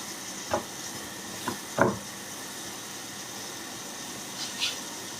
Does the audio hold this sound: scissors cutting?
no